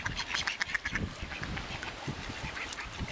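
Ducks quack in a loose, irregular series of nasal calls, fairly close and clear, with a couple of brief higher honking notes among them.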